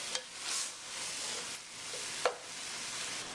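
Browned Italian sausage meat cooking down in olive oil in a pan, with a faint, steady sizzle and a couple of sharp utensil clicks against the pan.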